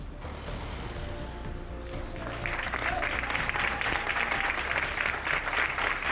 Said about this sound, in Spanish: Este es el emotivo aplauso que le han brindado sus compañeros de la Guardia Civil y el personal del centro.